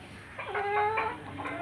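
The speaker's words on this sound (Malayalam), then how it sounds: "ഇതിപ്പോൾ എൻ്റെ കരിങ്കോഴികളുടെ സെക്ഷനാണ്." Kadaknath black hens kept in a coop give a short run of clucks and soft calls, close by and alone with no talk.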